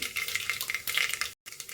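Mustard seeds, cumin and chana dal sizzle in hot oil as a tempering for a village-style sprouted horse gram sambar, with close, crackling spitting that stops briefly before resuming.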